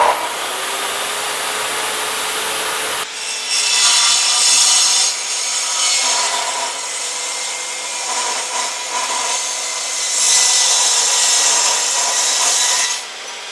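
A Milwaukee metal cutting saw grinds through metal with a harsh, loud rasping whine, running continuously and shifting in pitch and intensity as the blade bites and works through the cut.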